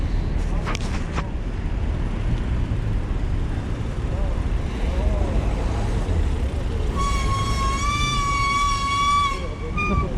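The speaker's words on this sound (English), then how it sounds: "Every Vélib do this kind of sound." A Vélib bike-share bicycle gives off a loud, steady electronic whine with a bright pitched tone that holds for a couple of seconds over busy Paris street traffic noise.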